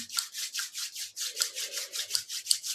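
Palms of hands rub briskly together in a steady back-and-forth rhythm, a soft close swishing repeated about a dozen times.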